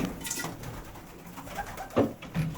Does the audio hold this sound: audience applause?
no